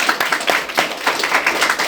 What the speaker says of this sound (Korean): 우리 박수 한번 드리겠습니다.